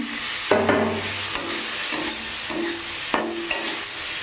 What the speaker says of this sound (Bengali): দুটো একটা কাঁচা লঙ্কা দিয়ে দিলাম চেরা, চিংড়ি মাছ দিয়ে দিলাম